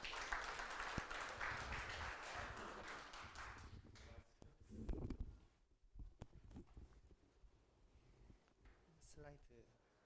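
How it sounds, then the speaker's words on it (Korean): Faint, distant applause from a conference audience ahead of a talk on AI, lasting about four seconds before giving way to scattered taps, handling noise and a person speaking quietly. "큰 박수 부탁드립니다."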